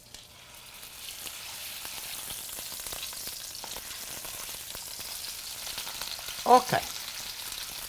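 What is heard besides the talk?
meat frying in a pan with garlic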